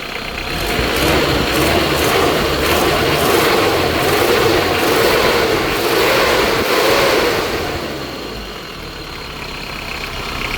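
A 1997 Mitsubishi Strada 2.8 pickup engine revs hard and steadily under acceleration, a loud, close, rough roar that holds for several seconds before easing off slightly near the end, with no talking.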